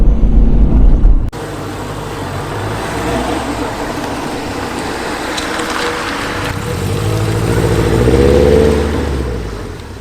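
A 2002 Subaru WRX STi GDB Prodrive Edition on a test drive: a sharp close noise, then steady engine and road drone from inside the car that swells as it accelerates near the end.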